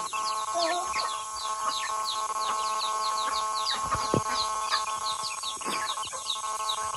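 Chickens cluck and chirp continuously amid a noisy, crowded yard, with many birds calling at once and a steady hum underneath.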